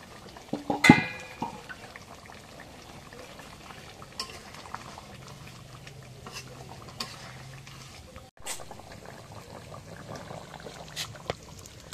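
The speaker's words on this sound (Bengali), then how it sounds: "পানি দিয়ে চড়া দিছি, পানিটা বলা খাচ্ছে" A pot of water boils on a home kitchen stove, a soft continuous bubbling broken by an early clank and a few faint taps, heard alone at moderate level.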